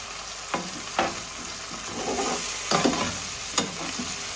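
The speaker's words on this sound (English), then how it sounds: "And everything gets sauteed." Saltfish sautéing in oil for Jamaican ackee and saltfish, a steady soft sizzle broken by several sharp scraping stirs of a utensil in the pan, close up and without talk.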